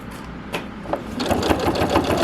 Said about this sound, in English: we're stitching the handles and the straps on